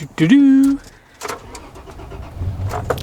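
A high-mileage Toyota FJ Cruiser gives a brief tonal chime, then a short starter crank, and catches into a low, close idle.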